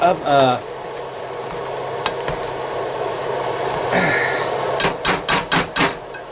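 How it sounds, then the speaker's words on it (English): Garlic potatoes mashed with cream in a bowl: a rapid burst of five or six firm thumping, squelching strikes near the end, after quieter scraping and clatter, with no voice. "just give me a minute here as I mash a little"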